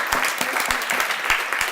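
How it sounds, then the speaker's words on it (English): Audience applause at a worker co-op day event, a brief, fairly loud burst of crowd clapping with distinct sharp hand claps. "let's just give her a big round of applause."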